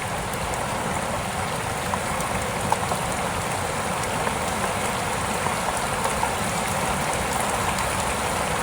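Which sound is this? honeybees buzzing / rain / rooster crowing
rain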